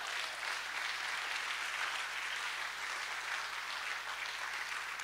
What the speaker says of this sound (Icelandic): Já, málum klappa fyrir því